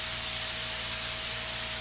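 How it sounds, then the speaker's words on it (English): Steady spray hiss of lacquer being applied to DIY speaker cabinets, continuous and close with no pauses or voices, plus a faint constant hum underneath. "Two layers of lacquer"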